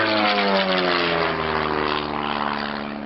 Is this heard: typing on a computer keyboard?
no